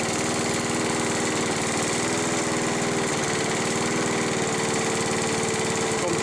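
A Peugeot TA514 lawn mower engine runs slowly at a steady, unchanging idle, close and loud with a buzzy, vibrating chug and nothing else over it.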